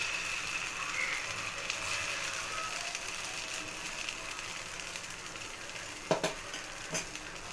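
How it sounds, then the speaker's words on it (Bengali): Oats patishapta pancakes fry one by one in hot oil, giving a steady, moderately quiet sizzle throughout, with a couple of brief utensil clinks near the end. "পাটি গুলো একটা একটা করে ভাজছি"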